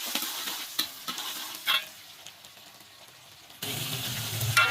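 Tomato, red chilli and onion fry in oil for Penang-style bihun goreng, starting with scattered scraping stirs and then a loud, close burst of sizzling that swells toward the end.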